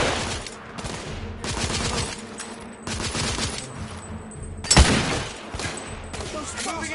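Sustained bursts of automatic gunfire and scattered shots from the Victorian-era shooter game The Order: 1886, with a sharp loud crack near the middle and faint voices under the firefight.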